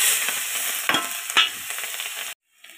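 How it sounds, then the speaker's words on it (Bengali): Green chilies and turmeric dropped into hot oil for niramish kochur shak, a loud steady sizzle and spatter with a couple of sharper pops, ending abruptly in near silence before a faint sizzle resumes. "আমি সামান্য একটু হলুদ দিয়ে তারপর কাঁচা লঙ্কাগুলো প্রথমে ছেড়ে দিব"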